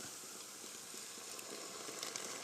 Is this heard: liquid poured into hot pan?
yes